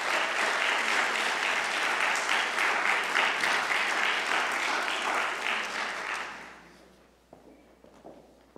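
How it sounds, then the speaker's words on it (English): An audience claps steadily and loudly to welcome two speakers onto the stage at a panel event on incarcerating children and the elderly, the applause fading out near the end. "Let's clap it up for these great people again."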